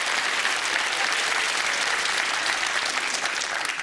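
Studio audience at a 1997 game show applauding, a loud continuous wash of clapping that holds evenly for a few seconds with no talk over it.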